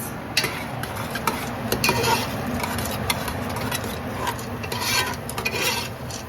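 A spoon stirs washed yellow split peas in a pot with coconut oil, garlic and onion for dal, giving a steady scraping, rasping churn with a light sizzle underneath, close and continuous.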